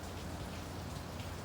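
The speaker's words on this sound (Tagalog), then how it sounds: "Bugso-bugso yung ulan." Heavy rain pours down in a dense, steady roar close by, alone without any voice over the brief stretch.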